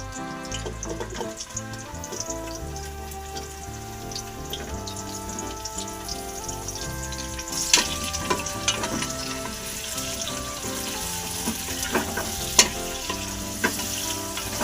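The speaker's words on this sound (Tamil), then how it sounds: "வெங்காயம் வதங்கட்டும்." Sliced big onions sautéing in oil in a pot for coconut milk chicken biryani, a steady close sizzle with scattered stirring clinks and scrapes, no voices.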